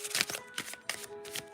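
Tarot cards are shuffled by hand in several quick riffling bursts, close and fairly quiet, with short pauses between them and no talking.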